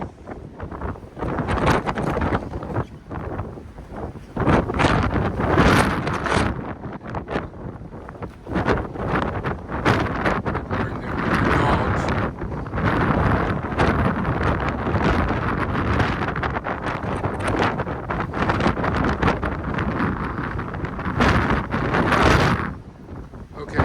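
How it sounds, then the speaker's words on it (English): Strong wind buffets the microphone in loud, continuous gusts on the outdoor deck of the Queen Mary 2 ocean liner, roaring and rumbling throughout with brief lulls. "It is just way too windy out here."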